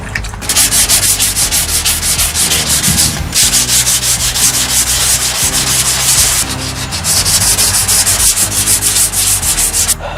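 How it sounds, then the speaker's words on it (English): Hand sanding with 220 grit over glazing putty on a cracked plastic car bumper, loud rhythmic back-and-forth scrubbing strokes that run steadily with one brief pause, close up and alone. "Now I'm going to go over with 220."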